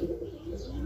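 Young checkered and light check Basra racing pigeons coo softly in a loft, a low continuous murmur of several birds close by.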